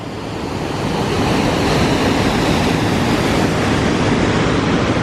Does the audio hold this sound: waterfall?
yes